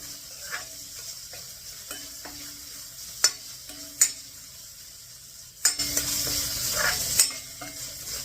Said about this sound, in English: Our bacon is doing very well, browning well enough.